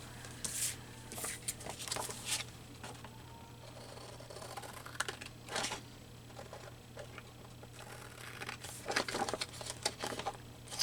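Paper is torn and crumpled by hand for a junk journal collage, giving close, quiet bursts of crinkling and ripping in irregular spurts over a faint steady hum.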